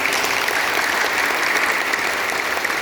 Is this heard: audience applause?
yes